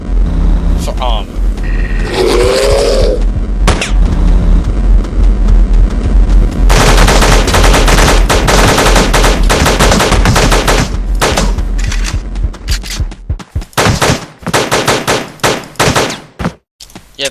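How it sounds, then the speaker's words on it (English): Rapid assault rifle fire from the top-down shooter Teleglitch, loud and close, coming in long sustained bursts broken by brief pauses, with a shorter tonal game sound early on. "the assault rifle is not the most accurate weapon, especially at long range"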